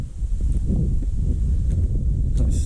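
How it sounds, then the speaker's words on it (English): Wind gusts across a lakeside campsite at Stillwater Reservoir, a steady, loud rush buffeting the microphone with faint rustling underneath. "A little windy."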